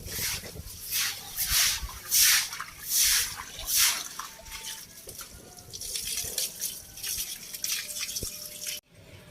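Running and splashing water while dishes are washed in a Punjabi village kitchen: uneven surges of flowing, sloshing water with drips and clinks, ending in a sudden cutoff.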